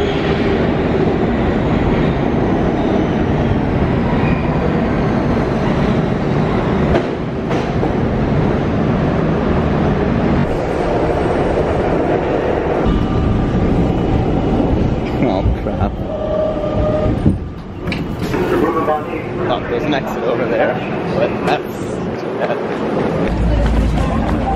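A New York subway train rumbles through a station with a steady low roar and rattling, screeching clatter, while a person talks over the continuous noise.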